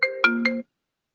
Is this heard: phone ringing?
yes